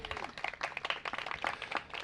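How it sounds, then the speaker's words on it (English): A small crowd at an outdoor ribbon-cutting for a meditation garden gives a brief round of applause, scattered claps rising and falling close by with a faint voice underneath. "Please give her a round of applause."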